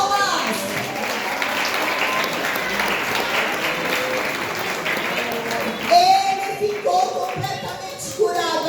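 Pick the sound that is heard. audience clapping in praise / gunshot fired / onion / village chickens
audience clapping in praise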